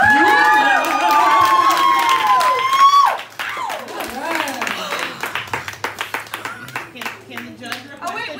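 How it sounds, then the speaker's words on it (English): An audience at a karaoke night breaks into a round of clapping after a voice fades out, the applause building into a dense patter of hands that lasts several seconds. "big round of applause for them"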